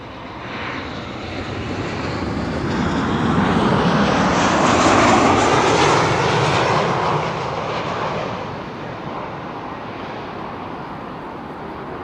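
An airliner's jet engine roars at Amsterdam Schiphol, loud and close, building to a peak midway before easing back to a lower steady rumble.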